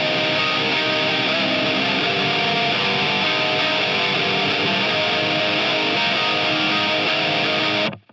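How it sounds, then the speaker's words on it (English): A distorted electric guitar plays a chord progression of power-chord shapes with slight string bends, as a dense, saturated wall of sound that rings steadily before cutting off abruptly at the end. "I've got a chord progression that I want to use that uses these shapes and the technique of a little bit of bending in there"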